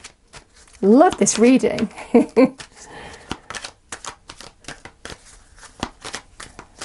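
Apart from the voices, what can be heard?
shuffling tarot cards to pull a card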